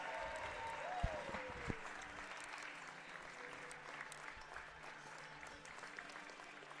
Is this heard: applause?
yes